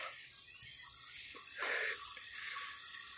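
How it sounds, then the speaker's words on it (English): A 1995 Crane Galaxy Elite toilet is flushed, with faint, steady running water that swells into a brief rush of draining water partway through. "And now I'm gonna flush it."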